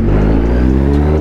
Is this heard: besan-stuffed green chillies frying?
no